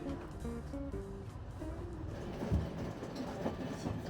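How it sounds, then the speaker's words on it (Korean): Old British Rail diesel train from the 1990s running through Scotland, a low steady engine rumble with rhythmic wheel clicks and a few thuds, heard from on board at moderate level. "1990년대까지 영국 국철에서 운행한 디젤 기차다."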